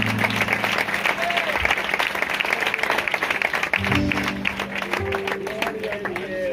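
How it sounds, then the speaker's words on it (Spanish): A congregation applauds a king during a church blessing service, its steady clapping sounding nearby, loud and continuous, with voices mixed into it. "Fuerte el aplauso al rey"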